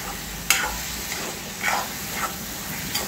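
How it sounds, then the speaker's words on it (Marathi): Half-cooked cucumber stir-fried in a pan gives a steady low sizzle, with a few scraping stirs of a spoon against the pan at intervals, close up and without talk. "याला एकदा छान परतून घ्यायचं आहे"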